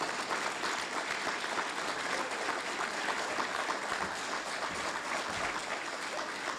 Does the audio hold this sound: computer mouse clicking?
no